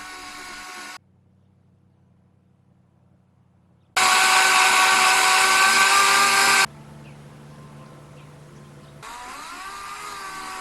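Power sander working on a concrete countertop sink mold, starting and stopping in bursts of loud, high whining buzz separated by quiet gaps, with no talk.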